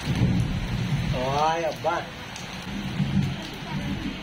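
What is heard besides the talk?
heavy rain with thunder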